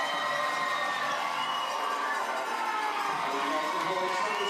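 Fans at a minor-league baseball game in Chattanooga cheer and shout as free t-shirts are tossed into the stands, a steady, distant crowd roar with children's shouts mixed in.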